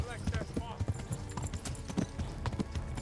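A horse gallops in the medieval video game Kingdom Come Deliverance, its quick clip-clop hoofbeats pounding rhythmically close by under game noise and a speaking voice.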